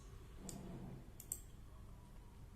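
A few soft, close mouse clicks on a computer running PLC simulation software, sparse and quiet against a faint room hum, with no talk.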